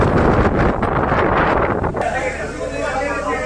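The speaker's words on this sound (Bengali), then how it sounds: "প্রচণ্ড জোরে হাওয়া বইছে, ঝড় চলে এসছে" A strong stormy wind roars across a college campus in Kaliachak, buffeting the microphone with a loud, steady rush that eases slightly partway through.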